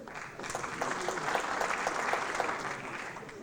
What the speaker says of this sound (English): I saw a distinct rise in applause for Lucas